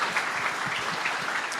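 Applause from a dinner audience honoring a singer after a rendition of America the Beautiful, a steady dense clapping wash at even loudness throughout.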